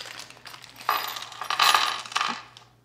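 Metal hex bolts of two lengths for a Rhino-Rack STOW iT roof rack utility holder rattle and clink inside a poly bag, three short bursts of close, bright jingling with no talk.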